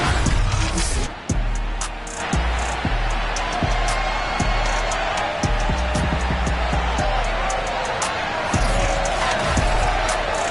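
Stadium crowd noise from a Madden NFL video game, a home Miami Dolphins crowd before facing the Green Bay Packers, roars steadily throughout with repeated sharp thumps and bursts layered over the constant din.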